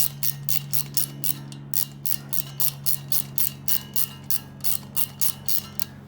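A ratchet wrench from a wrench set is cranked during a pressure washer repair. It gives a steady run of close, crisp clicking bursts at an even rhythm over a low constant hum.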